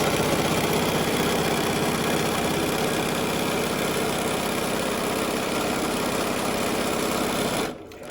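A sewing machine stitches bias tape down to the end of a pocket seam, a loud, fast, steady mechanical whir running close and continuous before stopping abruptly near the end.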